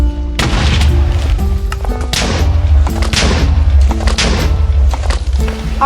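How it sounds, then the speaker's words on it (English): Dense, continuous Minecraft game audio with repeated booming thuds and blasts, like explosions and gunfire, loud throughout with no talking. "Got some explosions."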